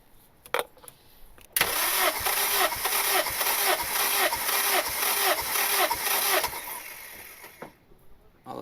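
The starter cranks a turbocharged Honda Civic R18 engine during a compression test with the throttle wide open, making a loud, steady rhythmic churn for about five seconds. It is framed by a few clicks and quiet moments.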